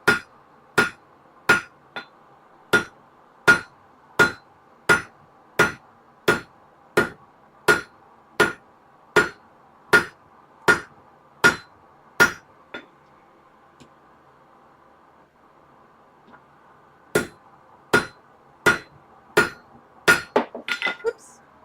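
A railroad spike is hammered on an anvil in a fast, even run of about fifteen sharp ringing blows. A pause follows, then another quick burst of strikes with a clattering finish, close and clear.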